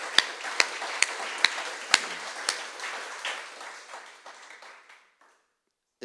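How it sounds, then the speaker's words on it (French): A church congregation breaks into applause, a fairly close burst of claps with a few sharp, loud individual smacks at the start that thins out and fades to silence over several seconds. "on va juste les applaudir rien que pour le plaisir"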